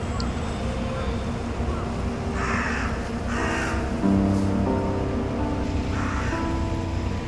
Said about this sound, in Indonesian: Hanya terdengar suara-suara burung gagak yang bebas berkeliaran.